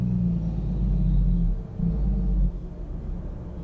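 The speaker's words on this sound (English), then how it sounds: "I hear trucks going by now" An 18-wheel tank truck passing on a road, a loud low rumble that swells and holds, then eases off as it moves away, with no voices.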